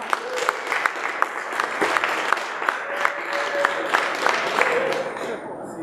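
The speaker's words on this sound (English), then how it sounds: "Can I get a round of applause?" An audience at a Startup Shark Tank showcase event in San Francisco applauds, a dense, steady patter of clapping from a crowd that holds at a fairly even level with a few sharper claps standing out, and some voices mixed in.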